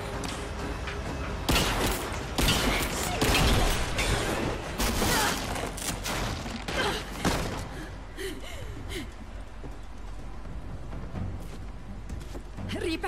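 Bursts of rapid gunfire crack in clusters over several seconds in Rise of the Tomb Raider, loud and close, then fade into quieter ambient rumble and scattered sounds.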